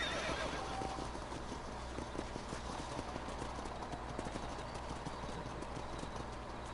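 Horse hooves clip-clop steadily while a horse neighs in the Red Dead Redemption video game, loud and close with the galloping beat running through the whole stretch.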